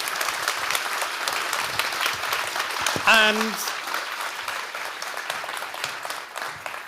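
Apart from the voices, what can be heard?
audience applause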